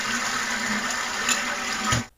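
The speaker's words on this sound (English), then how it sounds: "Let's import the toilet flush." Toilet flush playing as an imported sample: a steady, loud rush of water for about two seconds that cuts off abruptly.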